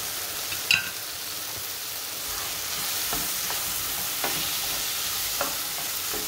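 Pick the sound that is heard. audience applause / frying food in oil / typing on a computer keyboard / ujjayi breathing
frying food in oil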